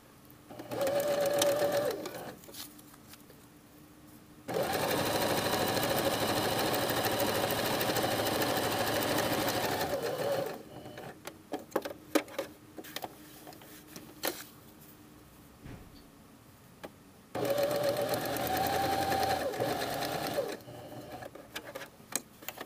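Sewing machine zigzag stitching a welt pocket on a jacket, running in three loud bursts of fast rattling whir, separated by quieter pauses with clicks and handling.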